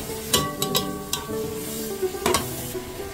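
Chicken tinola is stirred in a pot, a ladle clinking and scraping against the metal several times over a soft steady sizzle, close and clear with no talk.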